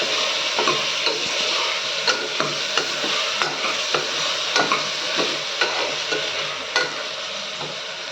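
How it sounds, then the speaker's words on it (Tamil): Chopped tomatoes sauté in a hot frying pan with a steady sizzle, while a spoon scrapes and taps the pan in irregular ticks as they are stirred. "தக்காளி சேர்த்தாச்சு. இப்போ இதை நல்லா வதக்கி விட்டுக்கலாம்."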